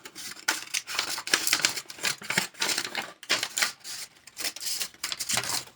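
Scissors snip steadily through a sheet of parchment paper in repeated crisp bursts, with faint crinkling between cuts, close up and alone with no voices.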